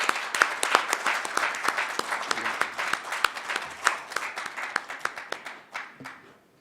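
A hall audience applauds to welcome a lecturer, Dr. Yang Soo-young, to a forum talk on carbon neutrality and energy: dense, steady clapping from many hands close by that keeps going and then thins and fades toward the end.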